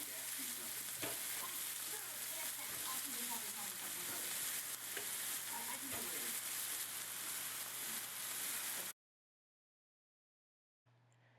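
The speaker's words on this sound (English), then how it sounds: "You want to make sure you sear your beef shanks on both sides." Beef shanks sear loudly in a hot pan for a slow cooker dish, a steady close sizzle and spatter with occasional scrapes, cutting off into silence near the end before briefly returning.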